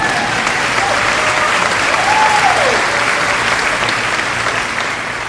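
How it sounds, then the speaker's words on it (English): Steady, dense applause from the audience at a 2014 high school commencement, loud and sustained throughout before easing slightly at the end. "You can clap, but that's okay."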